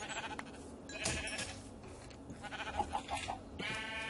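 Sheep bleating in the video game Minecraft, a few short bleats repeating near the end of the clip over steady game background noise, with no talking.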